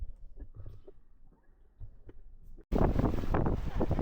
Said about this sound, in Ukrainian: Піднявся сильний вітер.